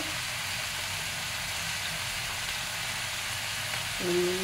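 Chicken sautéing in a pan for lal jhal chicken gives a steady, moderately loud sizzle and hiss throughout, ending with a brief brighter clink.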